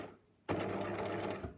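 A sewing machine with a free machine embroidery foot starts stitching appliqué after a brief quiet moment, then runs in a fast, steady, close mechanical whir.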